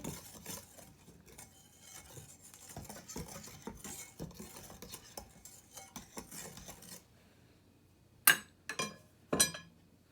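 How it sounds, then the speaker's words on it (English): Scone ingredients, flour, baking powder and sugar, stirred in a bowl with a utensil, giving a steady scraping, clinking rhythm that stops, followed by a few sharp taps of metal against the bowl. "Then I'll mix everything till it's well combined."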